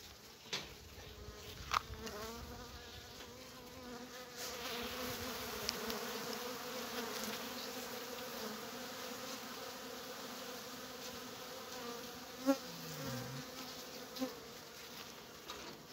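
Bees buzz steadily around an opened beehive, a dense, continuous drone close by with a few individual bees zipping past the microphone.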